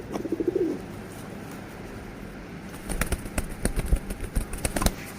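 A pigeon with a broken wing, after crashing to the ground mid-flight, gives a short soft coo at the start, then quiet clicks and taps follow nearby.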